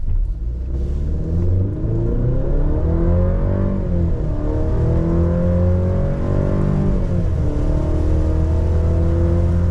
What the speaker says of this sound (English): Lastly, the Colorado 0 to 60 off of idle.